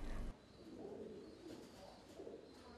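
Pigeons coo softly in a coop, a low, muffled, repeated cooing under steady faint background noise.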